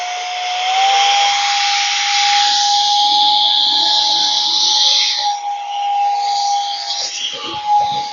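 A workshop air duster blows a steady, loud hiss of compressed air across a Shaker style door, with a high whistling tone running continuously and fluctuating slightly as the nozzle moves.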